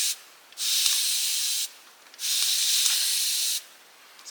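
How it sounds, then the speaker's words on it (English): A hand-pumped pressurized spray bottle lets out two long steady hissing bursts of mist, each lasting about a second or more with a short pause between, close and fairly quiet, at a car camping spot. "when you pump it, it adds pressure to the inside of the bottle, which causes the spray to continue coming"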